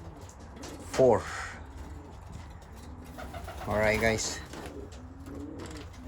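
Racing pigeons coo in a loft, two clear throaty coo phrases at moderate distance with quieter cooing between them, while someone speaks briefly.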